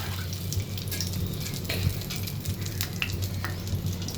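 Rajma vada batter sizzles in hot oil, a steady close crackling fry with small pops scattered throughout.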